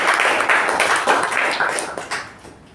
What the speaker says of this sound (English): A huge round of applause to the speaker and the evaluator.